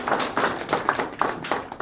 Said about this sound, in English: A round of applause for Kim,